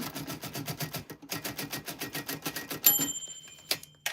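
Typewriter keys strike in a rapid, steady rhythm while names are typed onto handmade paper, close and clear, broken by a short pause and ending with a carriage-return bell and a sharp return clack.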